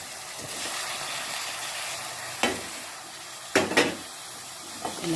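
Chopped ivy gourd goes into a hot, sizzling tempering and is stirred, a continuous frying hiss punctuated by a few loud scraping thuds as the pieces are tossed in the pan.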